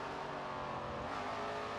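Race car engine in SRX: The Game on a short track, a continuous loud drone of revving under acceleration with no voices.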